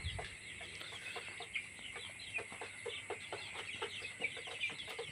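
Tiger breed chicks, about thirty days old, in a farm shed peep and cluck in quick repeated bursts over a soft steady background hum, fairly faint and with no voices.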